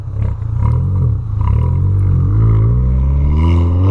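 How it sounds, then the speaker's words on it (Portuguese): Volkswagen Polo fitted with a sport exhaust revs loudly and close by, a deep droning engine note that holds steady and climbs in pitch toward the end, with no talk over it. "Quero escutar o barulhão do meu carro, mano, que eu nunca escutei."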